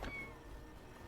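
A cat meows in the video game Garden of Witches, one short faint meow near the start over a low, steady game background hum.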